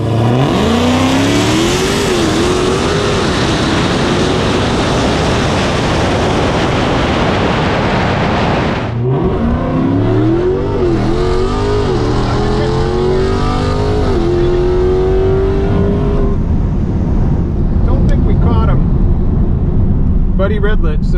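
A Tesla Plaid and a 972 hp Redeye Charger drag race at Bradenton Motorsports Park, with loud engine roar and rising revs sweeping through gears, a pause and then another acceleration, under excited commentary.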